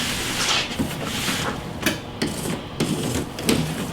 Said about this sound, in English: Imperfections in the panel can be cleaned up with the Surform shaver